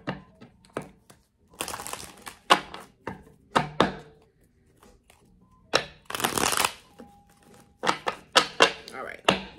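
A tarot deck is shuffled by hand in repeated bursts of crisp riffling and card slaps, close and clear, with pauses between bursts and a voice speaking softly at times.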